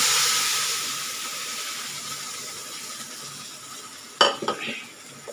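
Moong dal halwa with rava and coconut in a pan, soft hissing sizzle fading over several seconds, then a few brief scraping stirs of a spoon against the pan near the end.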